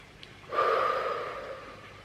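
One deep breath in a calm breathing exercise, a soft start and then a long, audible sigh of air that fades slowly, close and alone.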